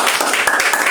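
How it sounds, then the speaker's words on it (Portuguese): A church congregation claps during worship, fairly loud and close, with irregular sharp hand claps standing out from a continuous mass of applause over about a second. "Aplauda o nome do Senhor Jesus."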